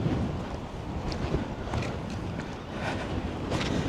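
Strong wind blowing across a small mountain near Las Vegas, a steady broadband rush buffeting the microphone with gusty swells throughout and no talk.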